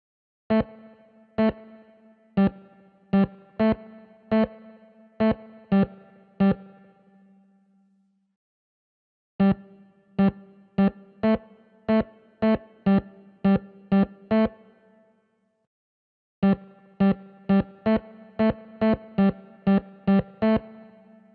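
Repeated plucked, twangy notes from a vintage organ in bursts separated by silences, each note trailing into a long, springy, metallic spring-reverb tail.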